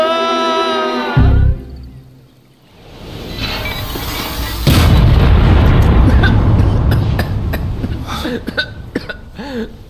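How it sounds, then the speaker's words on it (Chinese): An animated alchemy pill furnace blows up in a sudden burst with a heavy low boom, then a long loud crackling, rumbling roar that trails off, after a brief quiet lull and some earlier musical tones. "咋又炸炉了？"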